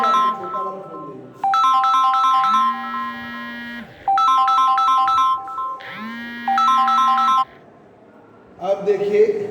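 A small mobile phone rings with a bright, repeating electronic ringtone in three bursts separated by short pauses, set against a low hum, with someone speaking briefly near the end.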